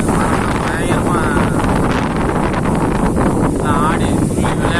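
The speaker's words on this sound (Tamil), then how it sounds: "அந்த மழையினுடைய வேகம் தான் இந்த காற்று." Strong gusting wind driven by heavy rain in Salem buffets the microphone with a loud, continuous roaring rumble, while a voice can be faintly heard underneath.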